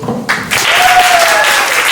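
Audience applause for a cameraman at a women's-only networking event, dense steady clapping filling the room with a whistle or cheer rising above it partway through.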